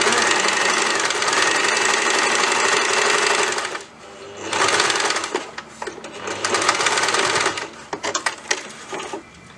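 A sewing machine runs in loud, steady bursts while stitching a tulip sleeve, with one long continuous run, a brief pause, then several shorter stop-start passes.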